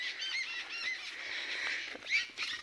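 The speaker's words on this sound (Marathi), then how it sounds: "सगळ्या पाखरांचा आवाज एकदम भारी" Evening birds call over a rural farmyard near a village, with several high chirps and honk-like cries overlapping at moderate distance against a quiet background.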